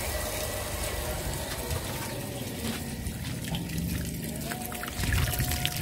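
A Shimizu water pump pushes water through an old, dirty hose in a continuous gushing, sputtering flow that swells louder toward the end.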